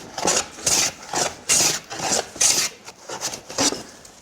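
A hand plane with a paraffin-waxed sole shaving along the edge of a glued-up wood panel, following the grain, in a series of quick rasping strokes of about half a second each, close and fairly loud.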